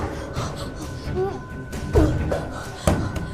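A heavy door slams shut in a supposedly haunted room, giving two dull, close thuds about a second apart, with frightened voices and a gasp around them.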